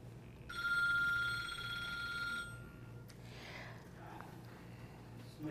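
A telephone rings close by with one steady electronic trill lasting about two seconds, followed by faint rustling and handling sounds in a quiet room.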